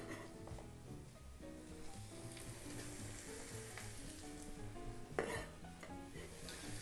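Shrimp gumbo simmers with a steady sizzle and bubble in a pot as chopped green onions go in, with a brief metal clink partway through.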